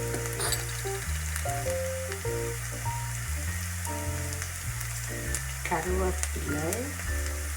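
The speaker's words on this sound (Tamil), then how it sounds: "இவ்வளோத்தையும் போட்டு வதக்குவோம்." Fenugreek, fennel seeds and curry leaves sizzle steadily as they are sautéed in a hot pan, a continuous crackle and spit running close and loud beneath stepped music, with a brief spoken word.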